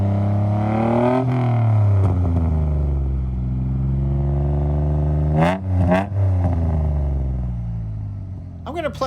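A 1986 Nissan 300ZX engine idles and then revs up several times, with rising and falling pitch sweeps and a couple of sharp blips. The sound is loud and close, with brief noises near the end.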